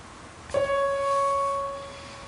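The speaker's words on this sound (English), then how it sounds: "this is the sound of the OH stretch translated into the audible range" A single steady electronic tone with faint overtones, the O-H bond stretch vibration shifted into the audible range, starting abruptly after a soft click, holding for about a second before slowly fading.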